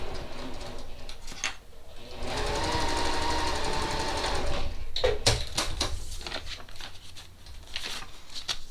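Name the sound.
sewing machine stitching paper-pieced quilt seam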